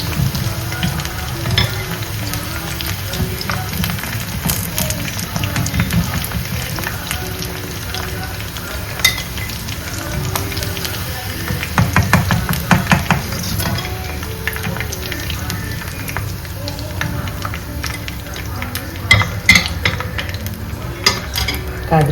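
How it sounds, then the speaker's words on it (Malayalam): Chicken pieces for chicken 65 fry in hot oil, a steady, close crackling sizzle that runs throughout with occasional stirring clatter and brief louder bursts of popping. "ഇനി നമുക്കിത് കോരിയെടുക്കാം."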